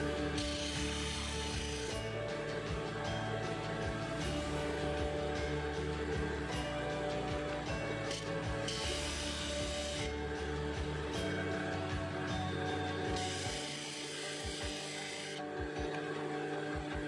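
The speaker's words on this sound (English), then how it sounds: "Continue grinding until you've removed any chips and re-established the point." Steady, continuous grinding of a drill bit against a sharpener, a raspy metallic rubbing that holds an even level throughout with slight pulses.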